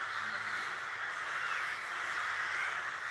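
Many birds calling together as they come in to roost in a garden, a dense continuous chorus of chattering calls heard from a distance with no talking.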